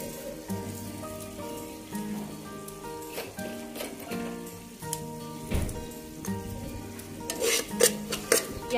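Bombil fish pieces fry in a pan with a steady, close crackling sizzle, broken by occasional stirring clatter and louder bursts toward the end.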